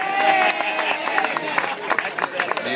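Stadium crowd at a Clearwater Threshers minor-league baseball player introduction, with scattered clapping and cheering spread across the clip under a steady wash of crowd noise.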